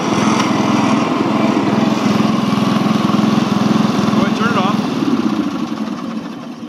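Riding lawn mower tractor engine running steadily at close range, a continuous low hum with a mower-blade drone that slightly eases toward the end.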